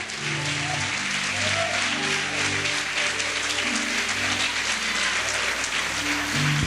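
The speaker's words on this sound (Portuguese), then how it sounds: "Você pode aplaudir?" A church congregation applauds, with steady, dense clapping filling the whole stretch while music plays underneath.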